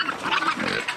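Milk-fed free-range Berkshire, Tamworth and Hampshire pigs grunt and snort close by on a South Australian farm, a dense, continuous rumble of snuffling oinks with no talking.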